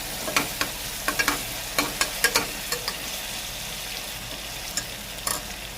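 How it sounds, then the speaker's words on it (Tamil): Tomatoes sauté in an oily pan for mutton curry, a soft continuous sizzle broken by scattered clacks of a spatula stirring, close by and with no talking. "தக்காளி நல்லா வதங்கட்டும்"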